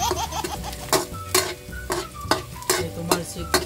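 Onion and garlic sizzle and spit in a hot pan for pork menudo, with bright crackling splatter bursts and stirring at a steady pace, under tonal background voices.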